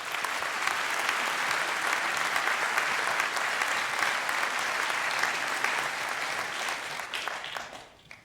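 A full conference hall audience welcomes a security speaker with loud, sustained applause, dense and steady for about seven seconds before tapering off at the end.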